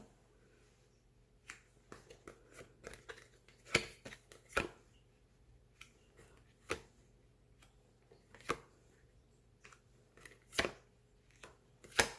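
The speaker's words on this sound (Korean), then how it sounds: "어떤 일이 펼쳐질지 제가 카드 한번 펼쳐 볼게요" Tarot cards being spread out on a surface: a run of sharp, separate snaps and taps at an irregular pace, several louder than others, close but quiet against a silent background, with no talk.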